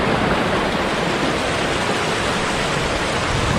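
Steady, loud rush of water at Pumbunga waterfall in Maros, a dense broadband roar with no pauses, close by and filling the whole scene.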